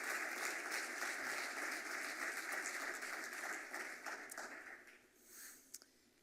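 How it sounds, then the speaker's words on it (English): Audience applause at an entrepreneur showcase, a steady wash of many hands clapping at moderate distance that thins out and fades toward the end. "Can we have a round of applause for Kelly next week?"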